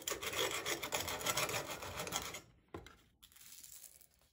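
Harsh, gritty scraping of a whetstone on a rusty sickle blade, rapid back-and-forth strokes for a couple of seconds, then a few quieter scrapes.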